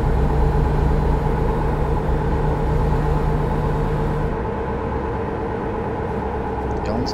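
A heavy truck engine drones steadily with road rumble in American Truck Simulator, loud and continuous throughout, the low hum easing slightly partway through while the cab noise carries on.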